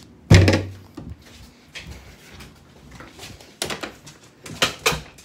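A bedroom closet door in a house being handled, with a loud close thump followed by several scattered softer knocks, rattles and bumps.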